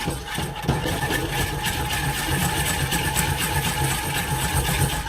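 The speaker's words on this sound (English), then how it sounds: "So now I just have to keep whisking until the lumps are" A whisk beats a lumpy sauce for a seafood pie in a pan, a steady close scraping rattle running continuously without a break for the whole stretch, with no voices over it.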